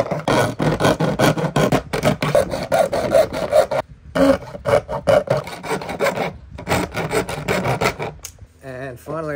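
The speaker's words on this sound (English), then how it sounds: "stage two just involves using a hacksaw blade to, by hand, take those cuts out to the corners" A hacksaw blade held by hand cuts into a rail in a garage hydroponics build, its rasping strokes coming quickly and loudly in a steady back-and-forth rhythm, broken by a brief pause near the middle.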